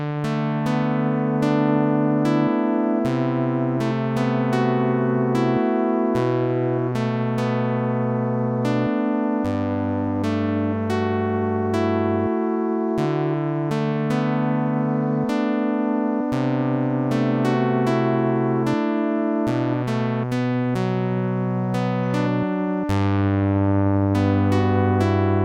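A custom-made Sytrus synthesizer preset plays a steady chord progression with bright plucked attacks on each beat, loud and continuous with no voices.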